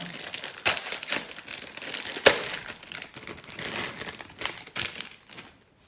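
Packaging of a Lego triceratops set being opened, close crinkling and rustling of plastic and cardboard with sharp crackles and tearing bursts.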